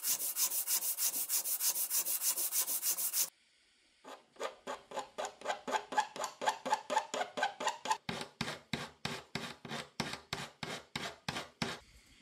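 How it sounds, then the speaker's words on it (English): An aluminum sprocket is cleaned up by hand with a file and sandpaper, giving a close, steady run of rhythmic rasping strokes, first fast and dense, then after a short pause slower, separate scrapes that grow sharper toward the end. "cleaned it up with a file and sandpaper"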